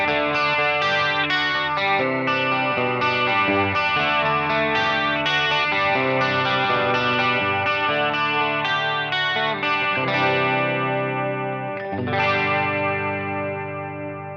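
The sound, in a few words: electric guitar through a Headrush MX5 pedal preset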